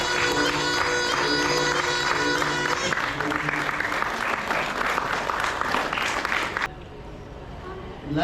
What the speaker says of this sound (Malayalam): എല്ലാവരും പറയുമ്പോൾ ഒന്ന് കൈയടിക്കണം.